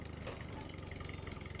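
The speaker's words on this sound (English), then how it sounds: "We spelled tractor and made a tractor to drive us through all that corn." A cartoon tractor engine putters along with a steady low chugging rhythm, faint and brief, as it drives through a cornfield.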